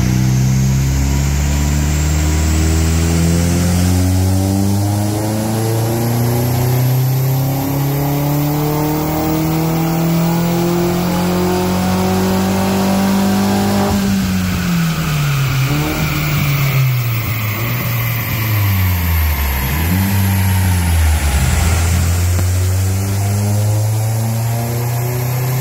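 An Audi TT quattro, running in front-wheel drive, revs hard on a dyno, its engine note climbing steadily through the gears for a long pull, then falling and blipping as it winds down, loud and close with no voices.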